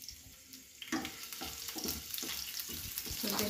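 Chopped garlic hits hot oil in a nonstick pan and frying starts with a sudden burst of sizzle, then keeps up a steady crackling hiss broken by soft scraping stirs, close and moderately loud.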